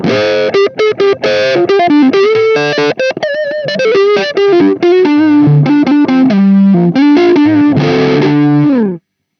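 An overdriven electric guitar plays a fast lead melody through a TC Electronic AMPWORX valve amp pedal, continuous and loud, with bent notes and a warm, gritty tone.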